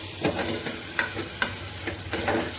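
Two finely chopped onions sizzle in a pan while being stirred, a constant frying hiss broken by several distinct scraping strokes of the spoon at a slow, uneven rhythm.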